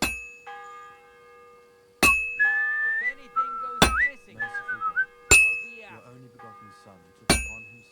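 Whistling during blacksmithing at an anvil in Kingdom Come: Deliverance II, a short wavering tune carried between sharp, ringing hammer clangs that land roughly every one and a half seconds.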